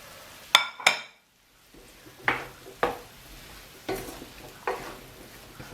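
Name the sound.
cubed potato added to pan of soft onions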